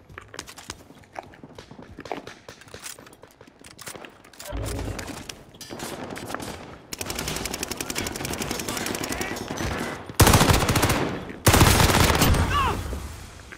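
Game gunfire from Call of Duty: Modern Warfare: rapid automatic bursts and single shots crackling loud and close, growing denser and heavier toward the end.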